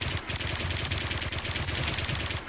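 Rapid automatic gunfire in the online shooter game WARMODE, a dense, loud, continuous burst of cracking shots with clattering mechanical detail, no speech.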